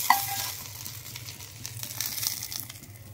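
Soft, crackling sizzle of a hot tempering poured into a Goan mixed vegetable stew, khatkhate, with stirring and occasional small pops, close and moderately quiet throughout.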